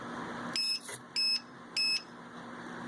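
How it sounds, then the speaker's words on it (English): A low-voltage buzzer alarm on a radio-controlled model gives three short, shrill electronic beeps at even intervals, loud and close over a steady background hum. "the buzzer is going to beep one time"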